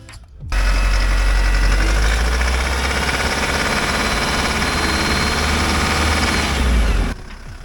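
A van engine runs hard at high revs, loud and close, holding a steady, rattly roar for several seconds before dropping away abruptly.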